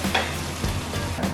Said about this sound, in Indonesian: Kita goreng kurang lebih